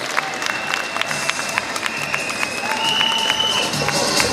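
A crowd at a presidential investiture congress claps and cheers to welcome a speaker, the applause building toward the end, with a few tonal whistles and some voices mixed in.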